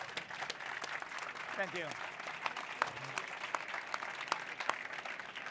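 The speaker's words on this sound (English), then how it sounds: "Please, a big round of applause for our panelists" A conference audience applauds panelists on an innovation stage, scattered claps rising into a steady round of applause, with a voice briefly speaking over it.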